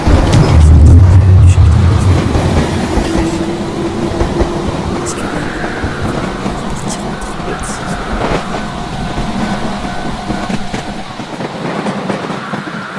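Rail rumble from a train moving along tracks in a Poppy Playtime horror game teaser, a steady low roll that is loudest at the start and then settles under a continuous background.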